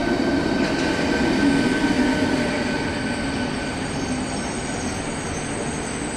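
A renovated train passes through Praha-Bubny station, a loud continuous rumble of rolling wagons with faint wheel squeal and a slight easing toward the end, with no talking.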